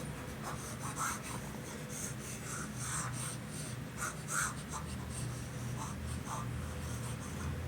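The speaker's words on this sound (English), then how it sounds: "let me erase these things" Board being erased, steady soft rubbing and swishing strokes repeating in short bursts, close and fairly quiet throughout.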